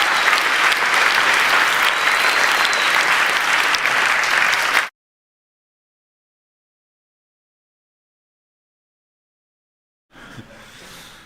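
An audience at the HackZurich 2021 closing ceremony applauds the hackathon finalists with dense, steady clapping for about five seconds, then silence, before fainter applause returns briefly at the end.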